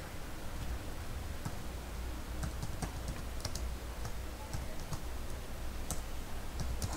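Close, quiet typing on a computer keyboard: irregular light key clicks patter in short bursts over a soft background hiss.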